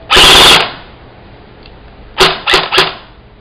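A KWA Ronin Tactical T6 airsoft gun fires one long full-auto burst followed by three short bursts, sharp and close, with a quiet pause between.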